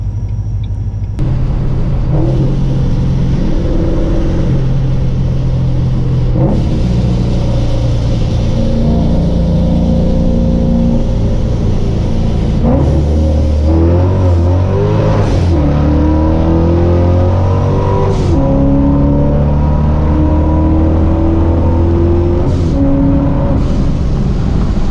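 A modified car's engine revving hard as it accelerates through the gears, a loud close roar that climbs in pitch, drops at each shift and climbs again.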